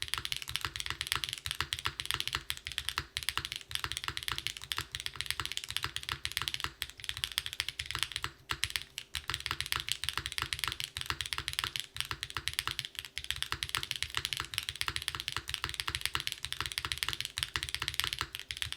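Fast, steady typing on a Neo75 CU gasket-mount mechanical keyboard with a PP plate, dense rapid clacky keystrokes close up and continuous throughout, with no voices.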